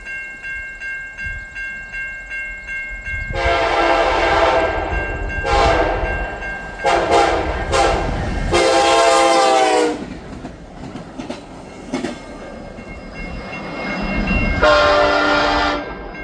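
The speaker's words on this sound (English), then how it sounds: "this train showed up on October 15th, 2025 with very nice consist" A delivery freight train rolls past, its wheels clacking rhythmically at first, then several loud, close horn blasts of varying length sound over the rumble of the passing cars.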